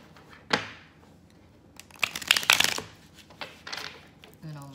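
A deck of Aquarian Tarot cards gets a hard shuffle, a quick riffle early on and then a longer burst of rustling, slapping card noise, close and crisp between quieter pauses.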